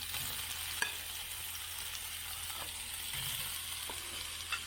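Marinated soya chunks frying in a pan, a soft even sizzle with a few small spatula clicks and taps, fairly quiet and close, no one talking.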